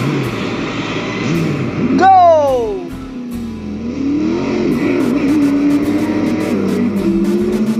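A race car engine revs in the Hot Wheels id video game, apparently the Rip Rod car, with a sharp rising whine around the middle over steady engine drone and game music, while a player talks over it.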